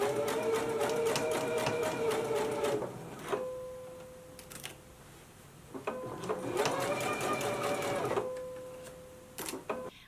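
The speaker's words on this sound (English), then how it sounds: "So I'm just going to baste right here along this side of the right fly extension, and I'm doing it through all layers." A sewing machine bastes through all layers of a jumpsuit front along the right fly extension, McCall's 7330 pattern. It runs in two steady, fairly close bursts of rapid stitching, with a quiet pause between them.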